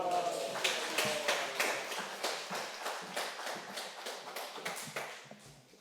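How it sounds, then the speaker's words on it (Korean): Congregation applause at an early-morning church prayer service, welcoming a missionary pastor of a Full Gospel church, a steady wash of many hands clapping that fades gradually toward the end. "큰 박수로 모시겠습니다."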